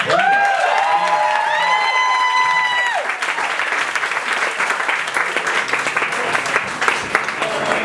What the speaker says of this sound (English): More applause for the dancers.